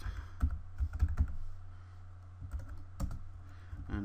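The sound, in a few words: typing Java code on a computer keyboard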